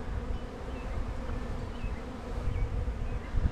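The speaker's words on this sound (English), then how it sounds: "the rest of these bees that are flying around will go in" A swarm of honeybees flies around beehives outdoors, a dense continuous buzzing drone of many wings, close and steady with individual bees passing by.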